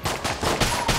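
Rapid sidearm gunfire in the Enter the Gungeon video game, four or five sharp, loud shots spaced in a quick, slightly uneven rhythm.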